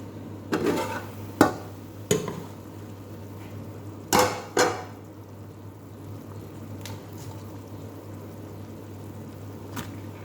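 A cooking-pot lid clanks onto a pot of chicken sinampalukan, with a few sharp metallic knocks and settling clatters spread over the clip above a steady low hum.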